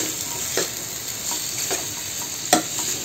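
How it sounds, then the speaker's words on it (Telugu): Cucumber pieces are stirred into a tomato and green chilli paste in hot oil, giving a steady soft sizzle with a few scattered scraping strokes, one louder clack near the end, close and without speech. "ఇప్పుడు దీన్ని ఇందులో కలిపేసుకోవాలి."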